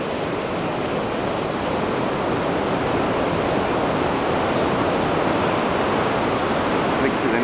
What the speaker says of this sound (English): You can see all the sand being sucked up by the waves there.